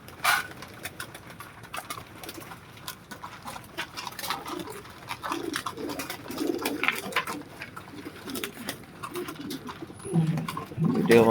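Pigeons in a breeding loft coo softly and repeatedly through low, murmuring calls at close range, with flock shuffling and a faint voice or two in the background.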